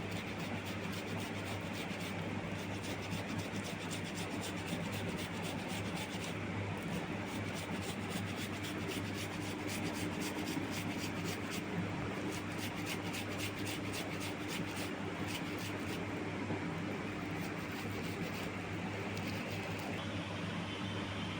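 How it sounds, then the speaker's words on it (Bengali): Boiled potato rubbed against a hand grater for samosa filling, a steady close rasping scrape running continuously under a constant low hum, with no talking. "দেখো আলুটা আমার গ্রেট করা হয়ে গেছে।"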